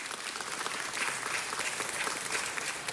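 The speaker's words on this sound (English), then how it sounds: "How about a big round of applause for our chair of the Health Committee on the City Council?" Audience applause at a city council meeting, a steady, even patter of many hands clapping, fairly faint and distant, lasting the whole stretch without talk.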